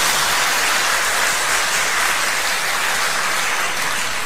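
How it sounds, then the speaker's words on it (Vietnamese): Audience applause during a live Catholic sermon: dense, steady clapping fills the whole stretch at even loudness with no voices over it. "Vỗ tay đi."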